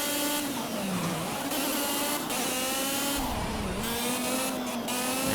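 A racing kart's engine in Project CARS drones continuously at high revs, pitch dipping and climbing through corners, loud and close with no talking.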